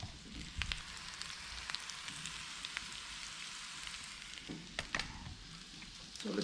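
Sausages sizzle in hot oil in a pan with a steady crackling hiss, broken by a few sharp pops and light clicks from cooking utensils, close up and with no talking.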